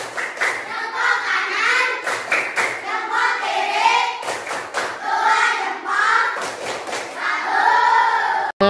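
Rhythmic hand clapping in a lively group setting, with a dense run of steady claps continuing through most of the moment alongside voices, then a brief pause near the end.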